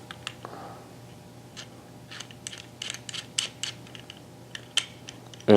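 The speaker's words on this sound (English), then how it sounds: "you can then turn these adjusting screws" Small metal adjusting screws on a Carter bandsaw blade guide are turned, giving a string of faint, close, irregular ticks, creaks and scrapes of metal parts, with no talking.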